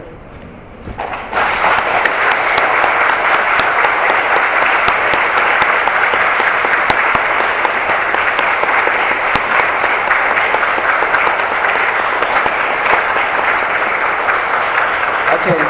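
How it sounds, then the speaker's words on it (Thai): A large audience rises in a standing ovation at a literary award ceremony, bursting into sustained, loud applause that continues steadily without pause, dense clapping filling the space. "ด้วยการลุกขึ้นปรบมือให้เกียรติด้วย"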